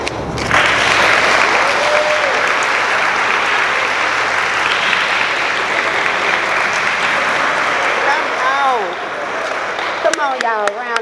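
Audience applause fills a banquet room after a performance at a middle school athletics banquet, loud sustained clapping that fades near the end as a voice starts speaking.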